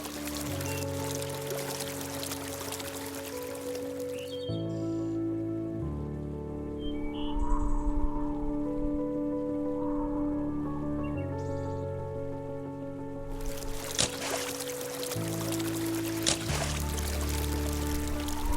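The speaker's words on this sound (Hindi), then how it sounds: "जो पत्तियों की हवा की आवाज़ है, पानी की आवाज़ है" Continuous rushing, splashing water from a waterfall, with wind in leaves, in a high mountain valley in Kinnaur, India, steady throughout, with sustained musical tones layered over it.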